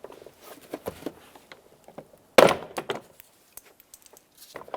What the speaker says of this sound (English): That'll pop out all the plastic clips that are still holding this in.